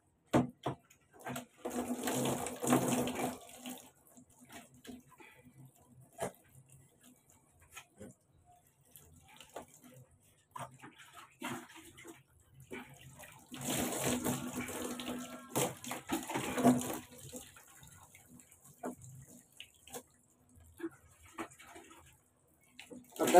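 Children being bathed with running water, two clear bursts of splashing, pouring water separated by quieter stretches, with faint background sounds and light bird calls.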